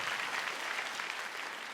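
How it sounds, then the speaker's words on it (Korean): Audience applause fills a church during a New Year's Eve worship concert, dense and steady clapping throughout with no voices. "우리 영광의 하나님께 박수를 해드리기 바랍니다"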